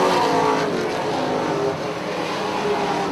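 Race trucks roar past on the Punta Gorda Speedway oval, a loud continuous engine drone that swells and fades slightly as the pack passes close by, with no talk.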